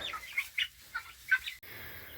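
Pastured chickens cluck in a handful of short, soft bursts, a few separate calls close by before the sound cuts to a quiet outdoor hiss.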